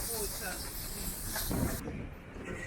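The St. Kitts Scenic Railway train running along a volcanic island line: a faint, steady hissing rumble with brief rattling swells, sounding distant and continuous.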